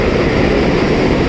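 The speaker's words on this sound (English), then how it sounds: "There goes the train." A train passing on a commercial street in the Bronx, a loud broad rumbling roar that holds steady through the whole moment.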